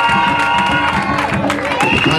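A church congregation cheering and acclaiming at a gathering with a pastor, a dense, loud wash of shouts and cheers with scattered clapping, continuous throughout.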